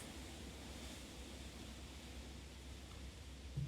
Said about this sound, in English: You can really hear the water over here.